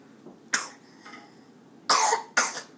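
A sick young child coughing: three short, harsh coughs, one alone and then a close pair near the end, loud and nearby against a quiet room.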